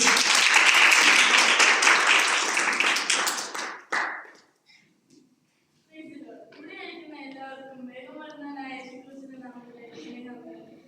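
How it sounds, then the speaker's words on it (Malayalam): Applause and clapping from an audience at a Sunday school skit, loud and dense for about four seconds, then fading out and giving way to someone speaking. "എല്ലാവരും കൈയടിക്കും."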